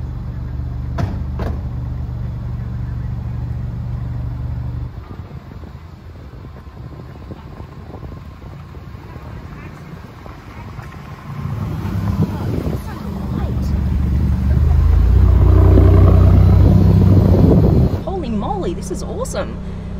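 A Maserati MC20 sports car starts off and drives away, its engine rumbling low and building into a louder, deeper surge toward the end, with people talking inside and a door sound near the start.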